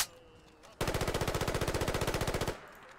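Rapid automatic fire from a modded assault rifle in the video game Fallout 4, a loud, evenly spaced burst of about two seconds' worth of shots that starts abruptly and stops cleanly over quiet background.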